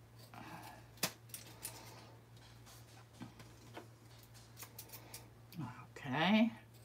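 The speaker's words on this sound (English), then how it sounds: "I'm going to cut off the excess, all the excess tape and acetate." Several sharp snips of scissors cut through excess tape and acetate, spaced irregularly, followed by a crinkly rustle near the end; quiet and close.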